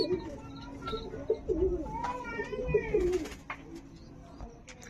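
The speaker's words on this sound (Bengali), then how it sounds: "এটা হচ্ছে এলাদাবাদী পুরাতন জেনারেশন কালদমা কবুতর আছে" Pigeons of an old-generation Allahabadi black-tailed breed coo in soft, repeated low notes over about three seconds, close by, with faint chirps and background noise around them.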